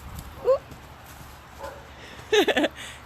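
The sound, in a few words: dog barking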